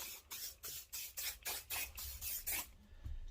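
Cleaning spray is squirted liberally over a dirty RC car shell in about ten quick, hissing trigger pumps, close and evenly spaced, faint overall, with no voices.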